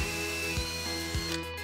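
A power drill bores holes into a garage wall, a steady close motor whine with a pulsing ratchet-like rhythm roughly every half second, heard alone without talk.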